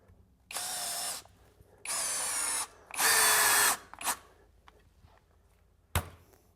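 A SKIL Flip Drill cordless drill driver whirs in three short bursts, the third louder and higher, followed by a couple of brief clicks and a sharp knock.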